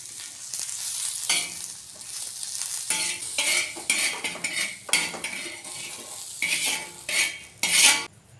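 Fresh ginger with salt and spices roasting in a pan, a soft sizzle broken by repeated bursts of a utensil scraping and stirring against the metal, close and without talk.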